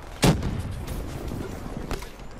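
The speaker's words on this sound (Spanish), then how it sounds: "Uy, qué miedo esas explosiones." Explosions and gunfire in a Black Ops 3 multiplayer match: a sharp, loud blast near the start, then a rumbling tail and a second, softer bang near the end.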